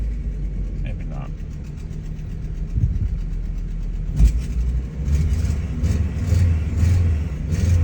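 A 1999 Volvo S70 Turbo runs with the throttle floored while it hesitates, a loud, low engine roar heard from inside the car, strengthening unevenly toward the end, with a voice speaking over it.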